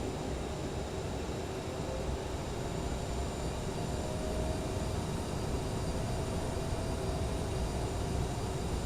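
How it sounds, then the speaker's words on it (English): Aerosoft CRJ regional jet in Delta Connection livery taxiing at KRDU in a flight simulator, a steady broadband engine roar with a constant whine, unbroken and loud. "We're going to be taxiing down to Charlie."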